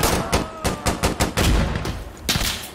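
Rapid automatic gunfire in the video game Insurgency Sandstorm, a loud burst of roughly ten closely spaced shots followed by a pause and a couple more, heard alone with no talk.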